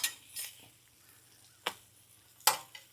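A spatula scrapes and taps against a pan while flipping brisket grilled cheese sandwiches, giving a few sharp metallic clicks and scrapes spaced apart over a faint, low sizzle.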